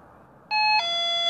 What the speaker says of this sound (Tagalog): Ba't tunog doorbell sa cellphone mo?